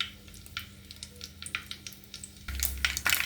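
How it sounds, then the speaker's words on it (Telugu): Four dried red chillies hit hot oil in a pan for a tempering, giving soft crackling taps that swell into a louder, steady sizzle close by. "పాన్ పెట్టి ఆయిల్ వేసుకొని 4 ఎండుమిర్చి"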